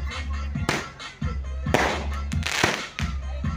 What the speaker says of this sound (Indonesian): petasan dari kembang api Bookmalus ini, teman-teman.